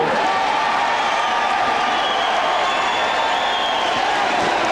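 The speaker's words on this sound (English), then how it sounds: "The crowd cheers him" Large arena crowd cheering and applauding Evander Holyfield's heavyweight title win at a boxing match, a steady, dense roar of voices and clapping holding at full level throughout.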